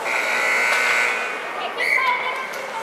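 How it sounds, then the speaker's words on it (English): Clock buzzer at a high school hockey rink sounding a sustained tone, followed by a second shorter blast, heard amid arena crowd noise. "The buzzer went off with 11 minutes and 17 seconds left to go."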